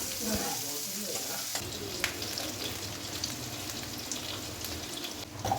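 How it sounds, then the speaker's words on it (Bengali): Onion frying in oil with panch phoron in a pan for a pumpkin hilsa curry, a steady close sizzle with occasional stirring clinks and scrapes. "তারপরে আমি একটুখানি পেঁয়াজ দিলাম পেঁয়াজটা হালকা ভাজা ভাজা হবে"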